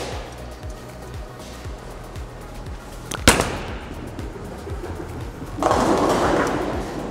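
A reactive bowling ball rumbles down an alley lane and strikes the pins with one sharp crash. A broader clatter of pins and alley noise swells a few seconds later against steady background hum.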